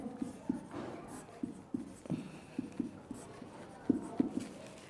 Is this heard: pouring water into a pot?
no